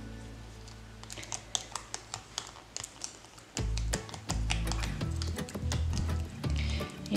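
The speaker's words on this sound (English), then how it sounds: "grab your card and just rub over where the lettering is" A card rubs over a transfer label on a pantry jar, making close, quick scratchy strokes that become louder and more continuous halfway through, with a low thumping rumble underneath.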